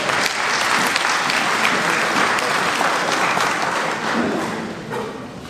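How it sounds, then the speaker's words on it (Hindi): Loud, sustained clapping from an audience at an alumni Urdu poetry mushaira in Australia, dense and continuous before tapering off near the end. "जोरदार तालियां"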